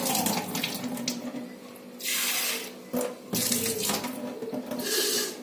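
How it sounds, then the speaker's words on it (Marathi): Running water splashes into a vessel in uneven bursts, with gushes and pauses as lentils are swished and rinsed, close by and without speech. "डाळ चांगली धुवून घ्यायची, असं पाणी काढून टाकायचं"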